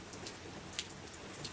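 Heavy rain pouring down in a dense, steady hiss of drops striking surfaces, constant and fairly close, with a few slightly louder splashes and no voices.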